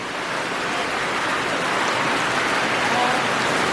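Steady unseasonal rain falls across Konkan, a dense continuous hiss of drops striking surfaces close by, even and unbroken from start to finish with no voices.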